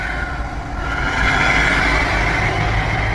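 An 18-wheel truck drives close by on the road, and its engine roar swells as it passes. A loud, steady, heavy rumble fills the clip with no talking.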